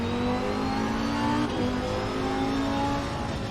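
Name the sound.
race car engine in Assetto Corsa Competizione VR video game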